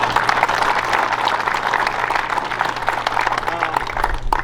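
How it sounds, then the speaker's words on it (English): Steady round of applause from an audience at a 2023 NCAA college golf tournament awards ceremony, honoring the golf course staff; dense clapping fills the whole stretch at a constant level without letup. "if you could give them a nice round of applause"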